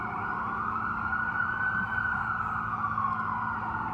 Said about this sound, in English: And here's the sirens.